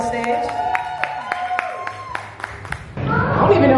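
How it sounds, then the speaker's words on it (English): An audience at a drag performance show at Ingenuity Fest claps to welcome a performer to the stage, a scattered patter of hands under music and a voice, swelling into a louder, fuller burst near the end. "Woo! Can we clap her up to the stage?"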